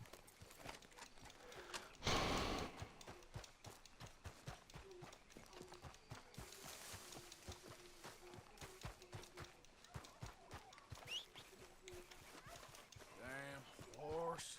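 Horse hooves clip-clopping at a run with a brief snort in a video game, repeated rhythmic steps under ongoing game sounds and someone talking over a live stream.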